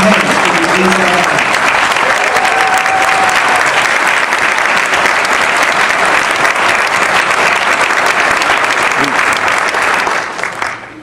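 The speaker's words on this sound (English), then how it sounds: "for everyone in this room who worked on those campaigns, can you please clap?" Loud, sustained applause from a crowd of campaign workers at a union gathering, a dense, even roar of clapping that holds steady before quickly dying away at the very end.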